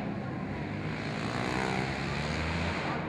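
Honda CBR250R motorcycles race at Shiraito Speedland circuit in the Dream Cup final, a steady, sustained engine roar that rises slightly in pitch as the bikes pass, loud and continuous throughout.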